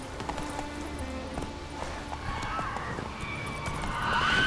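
Roach the horse trots through a Witcher 3 game world, soft rhythmic hoof clip-clops under faint background ambience, ending with a brief rise in noise.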